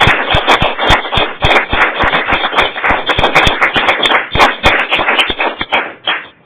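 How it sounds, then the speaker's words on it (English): An audience at a Toastmasters meeting claps for several seconds, a steady dense patter of many hands close by with no talk over it. "let's hear a real, not an ostensible clap"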